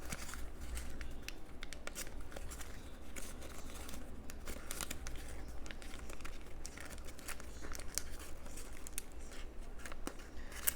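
Origami paper crinkles and rustles close by for about ten seconds as a one-layer-thick sheet is unwrapped from the top of a Robo Ky model being precreased and collapsed, with steady soft crackling and no talking.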